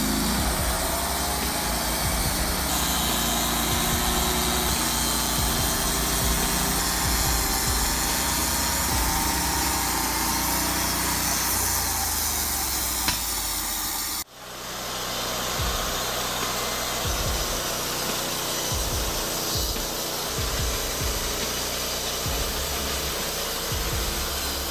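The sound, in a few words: Norwood Lumbermate LM40 portable sawmill cutting logs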